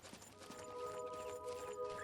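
Hooves clip-clop as a unicorn attacks other horses in the fantasy game Oblivion, a quick uneven trotting rhythm under sustained tonal background music, fairly soft overall.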